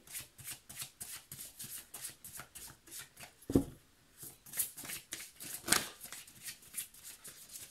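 Tarot cards shuffled and drawn by hand in a quick, steady riffling rhythm, with two sharper slaps as cards land; close and fairly quiet, with no talking.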